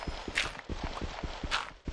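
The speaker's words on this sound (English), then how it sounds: "I can spawn me a horse." Horse hooves clip-clop at a steady walking pace in a video game, a regular run of close, even hoofbeats with a faint background hum.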